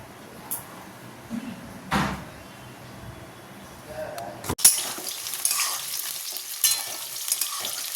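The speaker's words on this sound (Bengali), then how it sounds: "পটলটা অনেকটাই ভাজা হয়ে গেছে" Pointed gourd (potol) frying in a pan for a potol-and-prawn dish, a steady sizzle that turns louder and busier partway through, with a few knocks and stirring clatters over the hiss.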